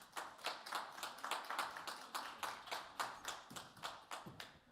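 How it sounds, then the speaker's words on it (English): A small panel audience at an NFT conference gives a brisk round of applause, fairly faint, made of distinct rapid claps that stay even throughout and end abruptly. "give them a warm welcome with a round of applause"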